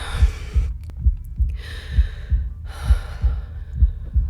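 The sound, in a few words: heartbeat sound effect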